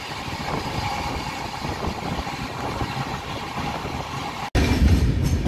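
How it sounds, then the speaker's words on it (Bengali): Konark Express running on rails near Khurda Road station, a steady loud rumble of wheels and carriage noise throughout, briefly cutting out before resuming louder for the last second. "আমাদের ট্রেনটি এখন খুর্দা রোড স্টেশনে অ্যাপ্রোচ করছে।"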